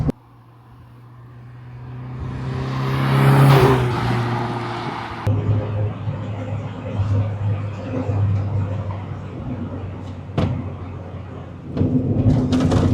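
A retro car cruises steadily in sixth gear with a low, even engine hum and road rumble, a whoosh rising early on and occasional interior knocks.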